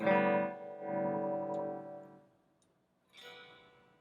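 Guitar chords ring out through a silverface Fender Princeton amp and decay into a wash of reverb tail, then a second struck chord swells with lingering echo.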